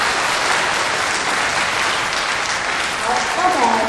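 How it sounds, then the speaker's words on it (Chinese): Audience applause at a parents' seminar on not being overbearing parents, a steady dense clapping from a sizeable indoor crowd sustained throughout at fairly loud level. "我们给点掌声好吗？ 给点掌声。"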